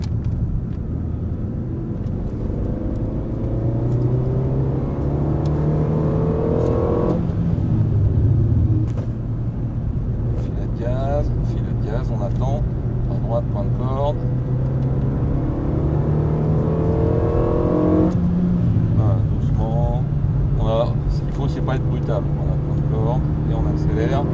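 A car accelerating out of a right-hand corner on the Dreux race circuit, its engine droning loud and near with rising and falling pitch, while someone talks over it throughout.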